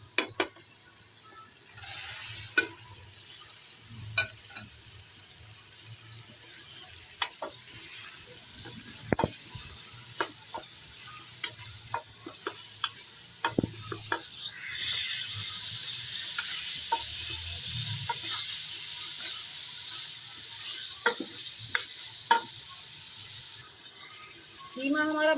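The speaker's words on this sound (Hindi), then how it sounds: "अब हम कीमा भून लेंगे।" Minced meat frying in a pan with tomato, ginger and garlic, a steady sizzle broken by frequent sharp scrapes and clacks of stirring, close and continuous, with a little speech now and then.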